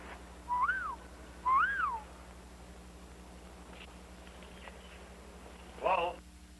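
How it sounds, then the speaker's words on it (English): Three short tuneful whistles: two rising-falling calls close together, then a quicker warbling whistle after a pause, over a low steady hum. "That was his whistle."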